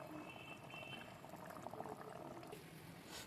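Thin broth is poured into a potato and fish curry simmering in a pan, giving a steady, soft bubbling and liquid wash throughout, fairly faint and without talk.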